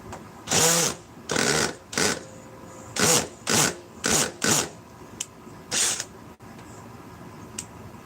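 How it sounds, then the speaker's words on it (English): A handheld electric drill whirs in a series of short bursts, roughly eight on-off pulses of about half a second each, close and fairly loud, followed by a couple of faint clicks and quiet room tone. "Drills have so much oomph."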